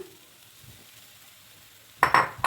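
Mashed boiled potato mixed with chilli, coriander and cumin powders, turmeric and chaat masala for mini aloo samosa filling; after a quiet stretch, a spoon scrapes and clinks against the pan in a few short, close strokes.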